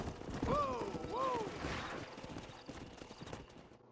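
Horse hooves clip-clop steadily in Red Dead Redemption while a horse gives two rising whinnies near the start, with game sounds and faint voices mixed in.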